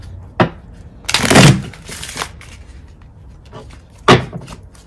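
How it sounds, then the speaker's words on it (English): Tarot cards are shuffled by hand in short bursts: a quick riffle near the start, a longer rustling shuffle, then another sharp riffle, close and fairly loud in a quiet room. "Just gonna shuffle one more time and then we'll lay the cards out."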